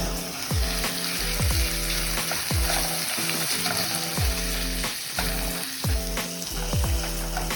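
Corned beef caldereta cooking in a pan as tomato paste is stirred in, with a steady loud sizzle and repeated scraping stir strokes every second or so, with no talking.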